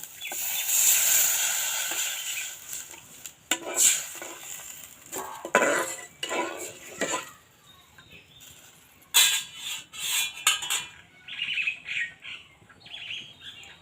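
Semolina (suji) is stirred in a pan, with irregular scraping and metallic clinks of a spoon against the pan coming in bursts, some louder than others, alongside faint bird chirps in the background and no talking.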